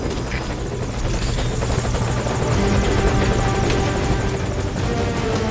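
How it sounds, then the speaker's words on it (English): A helicopter arrives in Metal Gear Solid V: Ground Zeroes, its loud, steady rotor chop and turbine whine filling the whole stretch at close range with no talk over it. "Chopper."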